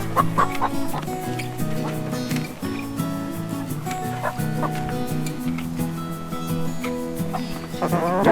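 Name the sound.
chickens clucking near chicken trailer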